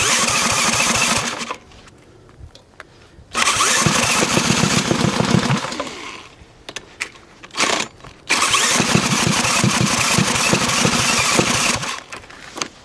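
A small Harbor Freight engine, hot-rodded to rev toward 8000 RPM, sputters as it starts, then revs hard and loud in repeated bursts. Short dips toward idle separate the runs.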